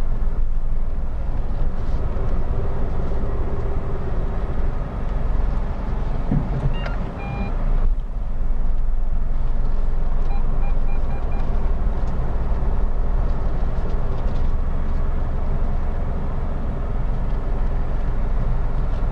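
A Nissan Magnite being reversed into a small garage: a steady low engine rumble and road noise run throughout, with a few brief beeps near the middle.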